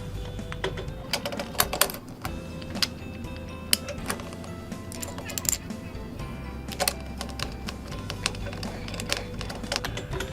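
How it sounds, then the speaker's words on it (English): A screwdriver tightens screws and nylock nuts on magnesium drywall stilts, producing a series of sharp clicks and ticks at an uneven pace over a low background hum. "take your screwdriver and just get it hand tight"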